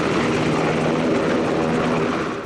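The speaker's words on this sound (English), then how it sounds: "the Coast Guard helicopter landed with 7 people on board" A Coast Guard helicopter comes in to land during a coastal rescue near San Diego, its loud, steady rotor thrum and turbine whine filling the air, easing slightly at the end, with no voices.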